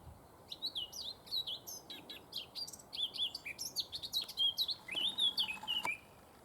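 Rich, fluting warbles from a male blackcap pour out in several rapid phrases, moderately distant and clear above a low outdoor background, the song rising into a louder, fuller burst toward the end.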